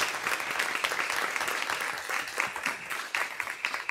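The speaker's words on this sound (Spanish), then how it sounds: "Muchas gracias, un fuerte aplauso." Audience applause at a presentation event on children's and adolescents' participation guidelines: dense, steady clapping from a crowd that fills the whole stretch at moderate loudness with no talk over it.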